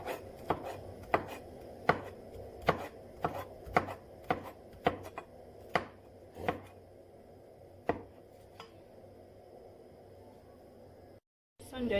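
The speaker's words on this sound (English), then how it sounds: "Let's start by cutting the red pepper into pieces." A knife chops a red pepper into pieces on a board in a kitchen, about a dozen sharp, fairly evenly spaced cuts that slow and then stop, with a quiet room tone under them and no talking.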